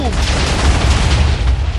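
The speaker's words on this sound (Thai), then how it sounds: "ผมจุดระเบิดทันทีเลยหวังบื้มบ้านหลังเนี้ย" Explosion set off in Minecraft Parasites, a loud sustained rumbling blast filling the whole moment with dense crackling debris.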